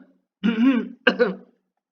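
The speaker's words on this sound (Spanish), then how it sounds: "O toser sin tener el reflejo tusígeno" A close, deliberate simulated coughing vocal tic in two quick bursts, a longer rasp followed by a shorter one, alone in silence.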